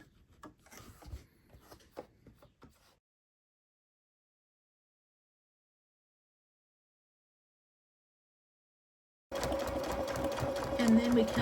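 A sewing machine stitches binding onto a quilt block design board, starting abruptly after a long silence and running loud and steady to the end, with quiet rustling and handling sounds beforehand.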